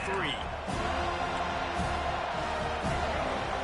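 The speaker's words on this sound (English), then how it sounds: "Decibels rising as the crowd gets behind this defense on 3rd down." Crowd cheering rises inside the stadium in the EA Sports College Football 25 video game, a steady dense roar sustained throughout with a commentator's voice talking over it.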